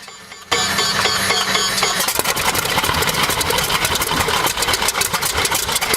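An old restored engine, running again after fifty years, starts abruptly and settles into a loud, dense, continuous run heard close, with a rough mechanical clatter throughout.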